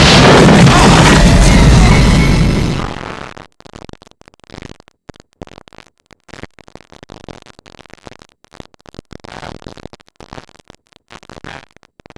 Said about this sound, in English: it says they changed the noise of him going through the jet engine